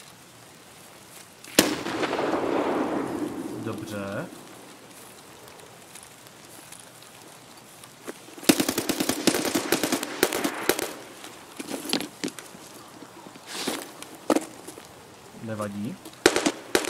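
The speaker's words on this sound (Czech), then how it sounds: "A tlumená střelba." Suppressed gunfire in the Escape From Tarkov video game, heard as scattered muffled bursts and single shots over a steady background hum, with brief talk in between.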